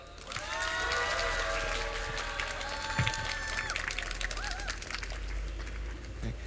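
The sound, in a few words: audience applause at an outdoor rally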